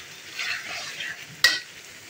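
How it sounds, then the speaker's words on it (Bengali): Potatoes are stir-fried in a pan as a quiet hiss rises and falls, with a single sharp utensil clack partway through. "একটু আগে আলুটা ভালো করে কষাই নিই"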